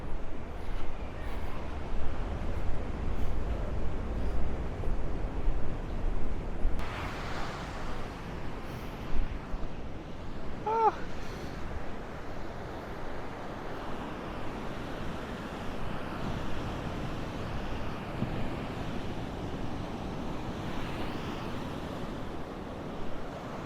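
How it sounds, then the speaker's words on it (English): Ocean surf washing onto a beach in Monrovia, Liberia, a steady broadband roar of breaking waves with wind buffeting the microphone, continuous throughout at moderate level. "So now we have trekked our way down to the beach."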